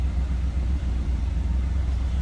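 A 1975 Chrysler Cordoba on its stock exhaust, idling with a steady, deep, even rumble and no other sounds.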